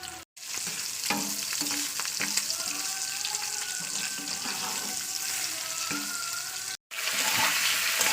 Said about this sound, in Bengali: আমার 2 থেকে 3 মিনিট প্রায় ভাজা হয়ে গেছে আলুগুলো তেলের উপরে